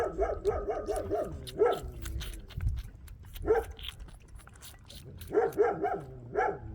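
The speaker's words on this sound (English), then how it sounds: "We got our new male Maremma puppy." Young male Maremma puppy on a farm during lambing season yaps in quick bursts of high barks and yips, close and loud, with short pauses between volleys.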